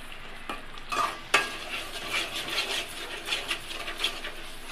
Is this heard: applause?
no